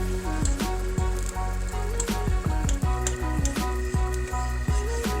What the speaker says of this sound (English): Just sit there and let it cook for a little bit.